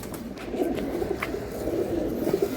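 Large pigeons in a loft coo softly and repeatedly in a low murmur, close by, with faint background noise and no talk.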